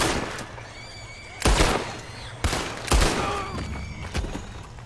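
Several loud, sharp gunshots ring out in Red Dead Redemption 2, spaced about a second apart, over a low, steady game ambience.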